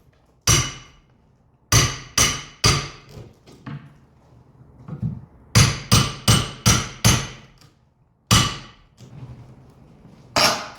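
Hammer blows while ripping out an old window down to the studs, sharp loud strikes in irregular clusters of two to four with quiet gaps between, close by.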